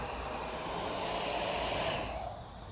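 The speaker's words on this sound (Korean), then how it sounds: "무선 열풍기나 헤어 드라이기로 이렇게 구워주세요" A cordless heat gun or hair dryer blows steadily while heating the rear LED emblem on a Chevrolet Trax Crossover, a close, even rushing hiss that holds for nearly three seconds before easing slightly at the end.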